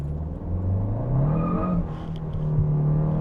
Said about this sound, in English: Did you hear that wheel spin?